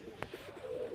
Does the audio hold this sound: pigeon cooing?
yes